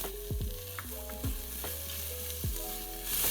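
White onions sauté in a pan with a steady, close sizzle, marked by a few sharp clanks and scrapes from the utensil at intervals, with no voices.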